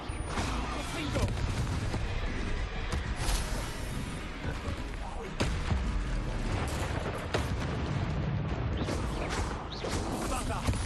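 Fire spell blasts from Hogwarts Legacy on Nintendo Switch 2 crackle through a dense, continuous barrage of combat noise, with loud bursts and booms layered over a steady roar for about eleven seconds.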